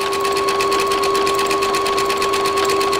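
A sewing machine runs a dense satin stitch over fabric in a steady, loud, rapid whirring rattle with a continuous motor hum, close up and uninterrupted.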